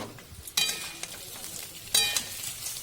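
Rice tossed and stirred with vegetables in a hot pan for Bengali-style fried rice, a steady soft sizzle broken by two sharp scraping clinks of a utensil, close and moderately quiet.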